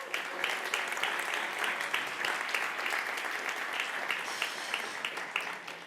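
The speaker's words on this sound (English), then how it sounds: "Big round of applause for you" Dense, sustained applause from a crowd at a video game industry demo day in Barcelona, steady and loud throughout with many overlapping claps and a few voices mixed in.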